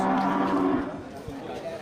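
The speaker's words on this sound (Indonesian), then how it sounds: "di depan kita ini terlihat beberapa ekor sapi bless yang persilangan dengan sapi berangus" A Brangus crossbred cow moos once, a loud, close, drawn-out low call that fills the moment and fades toward the end, with a livestock pen around it.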